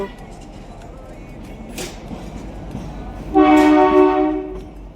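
Kalka-Shimla toy train arriving at Shimla station, a low rumbling background followed by a loud, sustained horn blast lasting about a second, with a brief noise burst before it.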